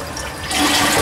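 A toilet flushes up close, a short burst of rushing water that swells and stays loud, with no talking.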